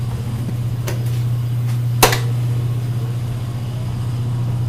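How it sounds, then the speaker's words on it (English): A plasma cutter starts up in a workshop, with a steady low electrical hum throughout and a couple of brief sharp bursts as it strikes, loud and close with no talking. "we can start our plasma cutter now"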